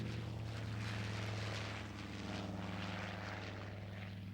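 Bristol 170 Freighter aircraft with two 2,000 horsepower Bristol Hercules radial engines flying at an air pageant: a steady, droning propeller engine hum with a low throbbing tone, continuous and moderately distant, no talk.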